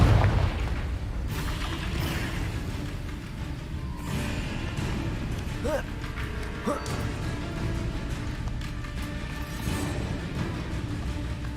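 Booming, crashing blasts from the Confringo spell in the Hogwarts Legacy video game, heavy and dense with game effects and rumble, a few sharper impacts scattered through a continuous loud mix.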